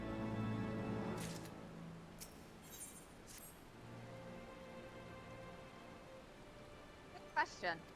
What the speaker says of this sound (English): Hey, if it's raining, how's the fire still going?